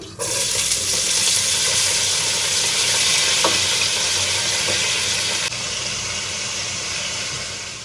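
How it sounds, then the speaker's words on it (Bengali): Chopped onions fry in hot oil in a pan until brown for a beef biryani, giving a steady, loud, continuous sizzle close by, with a few faint stirring clicks and no talking. "এই পেঁয়াজ কুচি দিয়ে আমি পেঁয়াজটা ব্রাউন করে নিচ্ছি"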